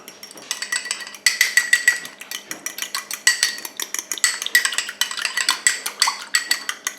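Egg and water whisked together in a bowl for a bread egg wash, a quick run of rapid clinking strokes against the bowl in several bursts with short pauses between, close and fairly loud, no talking.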